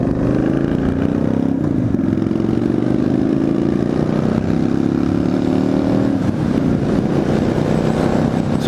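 A Harley-Davidson motorcycle rumbles loudly and steadily as it rolls into a sandy gravel pit, engine note close and sustained with slight shifts in pitch.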